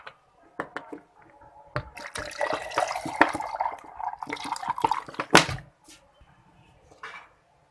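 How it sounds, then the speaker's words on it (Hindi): Water pours and splashes into a jug with ice, gurgling unevenly for several seconds before trailing off. "अब मैं इसमें पानी डालूंगी।"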